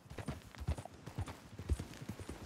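Steady horse hooves clip-clopping at an even walking rhythm in Red Dead Redemption 2, close and fairly quiet, with no voices.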